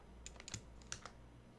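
Quiet, close clicks of fingers typing on a computer keyboard during a USB boot test, a handful of sharp keystrokes spread irregularly over a second and a half with no voices.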